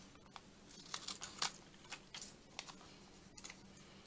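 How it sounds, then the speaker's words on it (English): Scissors snipping apart paper collage pieces at a craft table, a quiet series of short crisp cuts and paper rustles spread irregularly across the moment, faint and close with no talking. "Let's see if I cut these apart."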